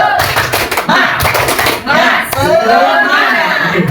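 Rhythmic 'tepuk semangat' clapping chant from an audience at a positive-discipline training session, quick patterned claps up front giving way to voices chanting and talking.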